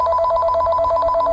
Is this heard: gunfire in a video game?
no